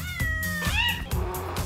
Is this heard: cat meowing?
yes